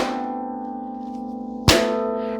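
Rubber band slapped against harp strings as an extended technique: a sustained ringing string chord close by, struck once more sharply partway through, leaving a fresh decaying resonance.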